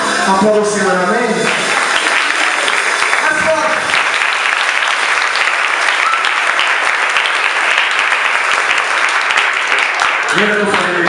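A church congregation claps loudly and steadily for several seconds during a worship event, with singing at the start and voices calling out over the dense, continuous applause.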